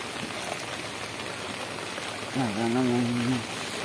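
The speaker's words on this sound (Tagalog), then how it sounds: "pahintuin mo na yung ulan." Heavy rain falls steadily on a flooded neighborhood, a constant dense hiss, while a person speaks briefly over it near the end.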